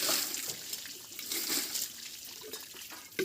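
Water is splashed and trickles over freshly scrubbed cooking pots and utensils sitting in a tub, a soft, uneven dribbling and pattering close by, fairly quiet throughout.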